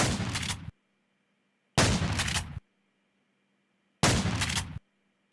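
Shotguns fire in modded Minecraft: three loud, blunt blasts, each lasting under a second, separated by roughly a second of silence.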